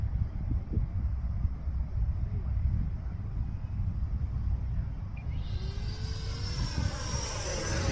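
FMS Futura 64mm EDF radio-controlled jet flying overhead, a steady broadband electric ducted-fan whoosh with wind rumble, rising into a sweeping pass near the end.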